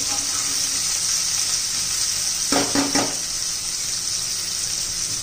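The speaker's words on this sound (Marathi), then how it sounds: "आता त्यात आपण हा टोमॅटो घालून घेऊ। आपण मऊ होईपर्यंत चांगला आपण परतून घेणार आहोत।" Tomatoes sauté in a pan for a spicy sprouted moth bean curry, a steady hiss of frying with a short burst of stirring or scraping midway, close and alone with no voices.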